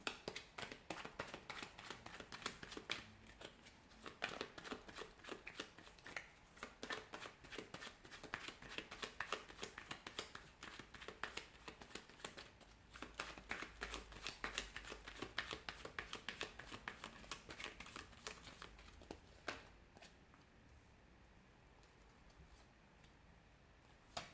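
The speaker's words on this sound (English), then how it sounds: "So we'll give the cards a shuffle and we'll begin." Tarot cards are riffled and shuffled in quick, crisp bursts of fluttering clicks, fairly quiet and close, pausing briefly before a final softer stretch.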